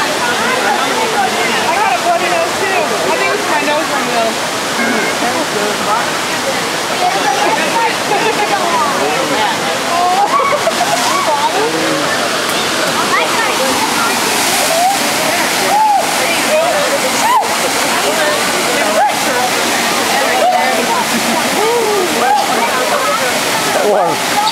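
Cold water rushes steadily and loudly down Sliding Rock, a natural rock waterslide near Brevard, North Carolina, with constant splashing and sloshing and occasional bursts of louder splatter close by.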